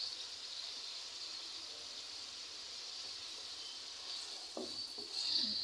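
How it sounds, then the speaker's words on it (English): Mrenda greens and liver cooking with ginger in a pan, a faint steady hiss with a couple of soft stirring knocks toward the end. "So you're going to stir them up and you're going to let it cook for some few minutes"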